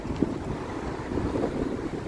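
Strong wind buffeting a microphone outdoors, a low rumbling roar that surges and eases over a couple of seconds, fairly faint, with no talking.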